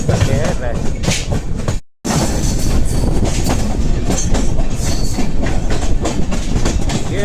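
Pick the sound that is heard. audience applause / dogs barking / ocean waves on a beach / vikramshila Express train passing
vikramshila Express train passing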